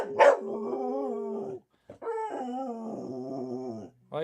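A pet dog named Mally gives a sharp yip and then long, wavering, howl-like vocal moans, close and fairly loud, broken by a short silence before the whining resumes and ends with another burst.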